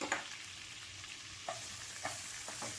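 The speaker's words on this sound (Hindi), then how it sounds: "इसको अच्छे से सौटे कर लें, इसका कलर गोल्डन ब्राउन होने तक हाई फ्लेम पे।" Finely chopped onions sauté on high flame in oil and melted butter, a soft steady sizzle under a few scattered spoon taps and stirs, quiet and close.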